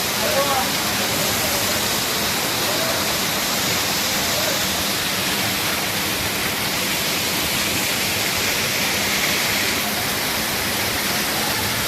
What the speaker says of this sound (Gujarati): જો આ ઝરણું